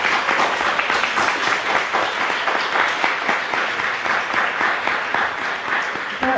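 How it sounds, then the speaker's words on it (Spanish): An audience at an art and feminism panel gives a sustained round of applause, with dense, even clapping that stays at a steady level throughout and has no talk over it. "un aplauso para ellas"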